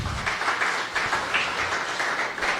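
A church congregation applauding the Lord during a Spanish-language sermon, a continuous wash of clapping from many hands, moderately loud and even throughout the short stretch.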